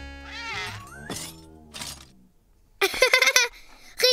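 A cartoon cat in an animated children's episode meows several times, with drawn-out, gliding cries followed by a burst of sharper, brighter mews near the end, each standing alone against a quiet background.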